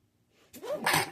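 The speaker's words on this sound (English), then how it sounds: "I have to sneeze." A single close sneeze: a short rising intake of breath followed by a loud, bursting sneeze, with no other sounds around it.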